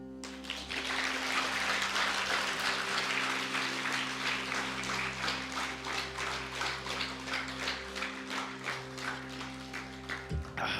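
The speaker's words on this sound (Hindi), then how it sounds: "बजाओ ताली" A seated gathering at an ashram discourse claps in a steady, rhythmic pattern, a dense run of hand claps lasting about ten seconds before stopping abruptly.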